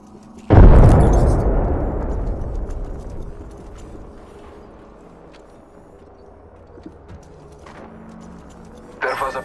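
A frag grenade goes off in the Apex Legends battle royale game as a single loud, close blast with a long rumbling decay, which fades over several seconds into quieter ambience before a short sharp sound at the end.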